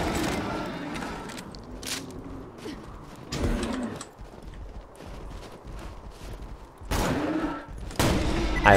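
Shotgun fire in the video game Borderlands 2 sounds as several loud, separate blasts spaced a second or more apart, with background game noise and clatter between shots.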